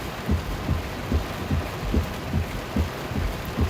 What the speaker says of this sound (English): there's definitely still some pretty heavy rain right now where I'm at